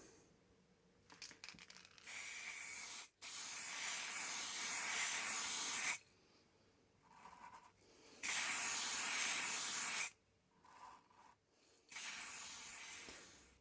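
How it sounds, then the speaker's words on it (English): Aerosol can spraying matte varnish onto a laser-cut brickwork model, three sustained hissing bursts of about two seconds each separated by pauses, with a few brief shorter sprays, close and clear. "give this a bit of a shot with the matte varnish again"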